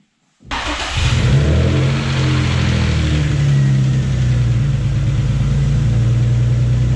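A Nissan VQ35DE V6 in an Infiniti G35 drift build, suffering low compression, cranks and fires after a brief silence, flares up, then settles into a steady rough idle that stays loud and close.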